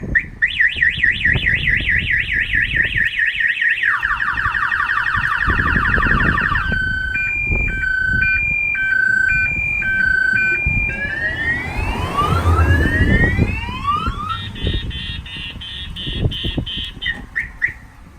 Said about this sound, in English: I'm gonna go ahead and fire off the alarm.